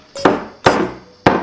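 A screwdriver chips at a block of dry ice in a pan: three loud, sharp strikes, close by, spaced about half a second apart.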